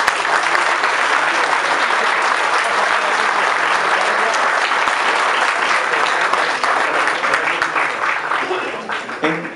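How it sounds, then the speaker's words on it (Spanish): An audience claps in sustained applause at a national static scale-modeling award ceremony, a dense, loud crowd of hands that tapers off at the end, with a voice briefly over it. "un aplauso para la pequeñita."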